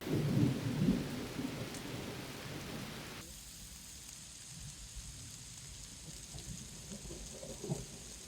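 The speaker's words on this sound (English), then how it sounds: "already after the first layer, or even within the first layer, it started raining" Rain and a thunderstorm by a lake, with a low rumble of thunder rolling through at the start, then steady patter of rain on surfaces continuing alone, faint and fairly distant.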